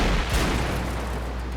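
An artillery shell slams into an E 100 heavy tank in a tank battle video game, giving a loud, broad boom that rolls off into a dense rumbling wash over under two seconds, with no voices.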